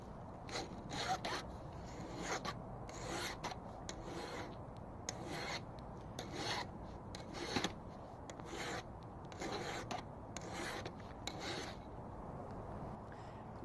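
A hand file rasps in repeated strokes along a lopper blade, a steady rhythm of close, scratchy pushes with short pauses between them, and no talk over it.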